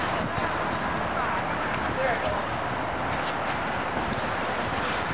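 Wind gusts steadily against a termite fumigation tarp over a house, a constant broad rushing and flapping roar close to the microphone, with a person talking underneath.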